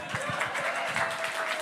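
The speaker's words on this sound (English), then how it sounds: "Give a round of applause." Applause at a poetry night, a steady wash of clapping from a small crowd heard at moderate distance, continuous throughout without pause.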